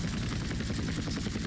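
Aircraft engine drone from a plane flown in the video game GTA San Andreas, a steady, loud, continuous buzzing roar with a rapid pulsing throb, heard alone without talk.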